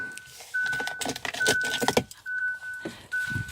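Keys to a Hyundai Ioniq jangle in quick metallic bursts, close and fairly loud, over a steady high in-car warning chime.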